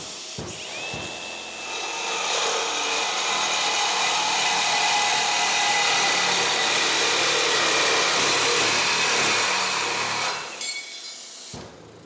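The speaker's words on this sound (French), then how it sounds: "on va faire de la découpe d'inox et ça va faire du bruit" A Hilti reciprocating saw cuts stainless steel in one loud, continuous high-pitched grinding whine lasting about ten seconds, then stops with a few clunks. The cut is steady and close, with no voices.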